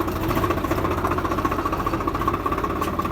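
A Swaraj 855 tractor engine runs steadily while pulling out stones, with a loud close mechanical knock pulsing in a fast, even rhythm and no voices.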